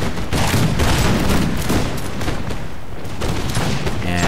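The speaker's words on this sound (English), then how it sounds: "you can see my rifle battalion unit getting off some shots there" A rifle battalion fires volleys in an NTW Russia versus France battle, a dense crackle of many musket shots rolling in overlapping bursts, loud and close, with distant booms underneath.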